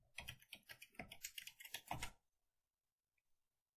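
Quick, quiet keystrokes on a computer keyboard as a password is entered, a rapid burst of about two seconds that then stops and leaves near silence.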